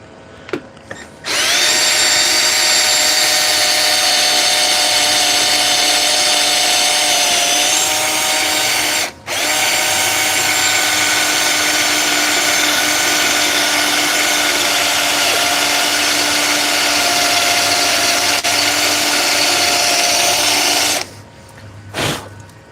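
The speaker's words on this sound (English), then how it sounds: "the Milwaukee is still able to drill through metal using the wrong drill bit" A Milwaukee power drill fitted with a cheap titanium bit whines loudly and steadily while boring into metal, pausing briefly midway before resuming, then spinning down at the end.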